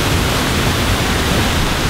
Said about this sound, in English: the rain's coming down hard now.